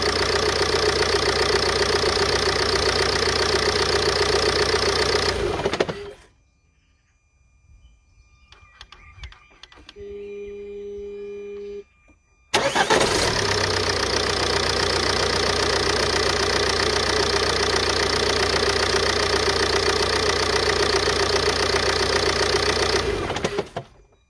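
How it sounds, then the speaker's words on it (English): Ford Mondeo Mk4 1.8 TDCi diesel engine idling steadily and loudly, cutting off into a few seconds of near silence with faint ticking, then restarting and settling back into the same steady clattering idle. "Let's turn the engine off and restart it again"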